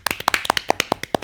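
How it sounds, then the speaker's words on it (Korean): Studio audience on a Korean current-affairs broadcast claps together, a dozen or so sharp, fairly close hand claps in an uneven quick rhythm, loud and with no voices over them. "우리 박수 한번 쳐주십시오."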